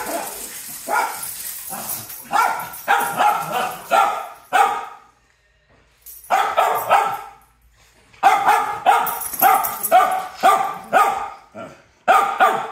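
Several dogs bark repeatedly during play, loud and close, in rapid bursts with short pauses, along with some yips and whimpers.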